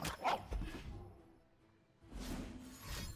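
Dog barks from the Legends of Runeterra card game, two short bursts separated by a quiet gap, fairly close and moderately loud with no talk over them.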